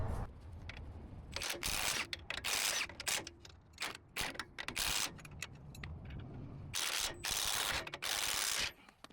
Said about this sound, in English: you're gonna have to hold the nut from here so you can take the bolt out